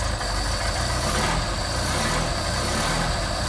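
A Mercedes 190SL engine with a Solex carburetor runs at a steady, even idle, a continuous loud rumbling hum without talk.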